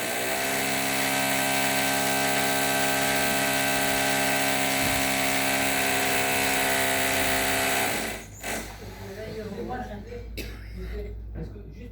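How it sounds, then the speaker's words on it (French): A jackhammer pounds steadily close by as a loud, continuous mechanical drone that runs for about eight seconds and then stops, leaving room noise and a few knocks. "ça serait possible qu'il n'y a pas de marteau-piqueur?"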